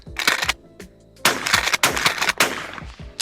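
A Browning BPS 12 gauge pump shotgun fires several loud, booming shots in quick succession, with short gaps between blasts and ringing tails after each.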